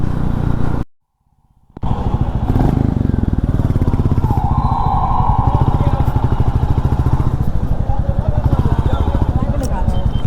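Royal Enfield Goan Classic 350 motorcycle, white, idling warm with a steady thumping exhaust throb and occasional crackle pops, close and loud after a brief cut to silence; a voice talks over it.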